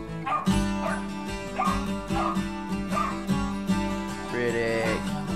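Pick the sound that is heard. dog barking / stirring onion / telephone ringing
dog barking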